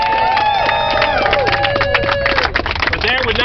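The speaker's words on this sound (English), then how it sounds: "Give them a round of applause." Crowd cheering and applause after a speech at a political gathering, with loud whoops and whistles rising over dense clapping and hubbub for a few seconds.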